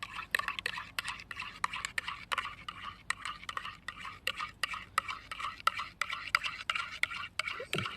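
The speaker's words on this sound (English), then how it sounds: "Then we give it a little stir." A spoon stirs a mixture of just-poured kettle water, scraping and clinking in quick, rhythmic strokes against the container, fairly quiet and close, with no other sound.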